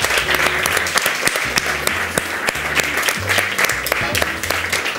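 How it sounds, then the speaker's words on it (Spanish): A studio audience on a Spanish quiz show claps loudly and steadily for a contestant, with music or a jingle playing beneath the applause. "Un aplauso para Manuel, gracias"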